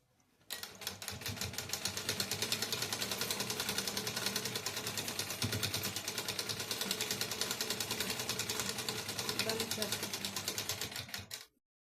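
Sewing machine stitching a katori blouse with piping, running in a steady, rapid, close mechanical whirr and clatter that starts and stops cleanly.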